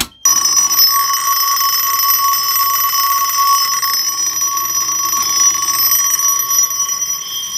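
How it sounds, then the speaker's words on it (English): Local fire alarm panel sounding during a system test, a loud continuous electronic ringing tone that starts abruptly after a short silence and holds steadily throughout. "there's a local alarm not connected to fire department"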